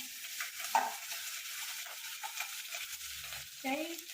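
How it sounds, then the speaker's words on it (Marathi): Peanuts and green chillies fry gently in a pan over low heat for sabudana khichdi, a soft continuous sizzle with occasional scraping stirs and a few brief faint clinks. "आता मी हिरव्या मिरच्या टाकून झालेले आहेत"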